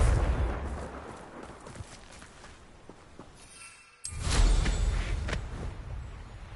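In Hogwarts Legacy, a fiery Confringo spell blast erupts with a sudden loud boom after a brief lull, over continuous rumbling battle noise and crackling fire.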